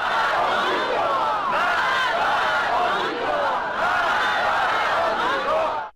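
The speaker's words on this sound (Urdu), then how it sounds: "وہ امریکہ کے خلاف نعرے لگا رہے تھے۔" A large crowd of protesters in Tehran chanting anti-American slogans, a dense and continuous roar of many voices rising and falling in rhythm, loud and sustained until an abrupt cut.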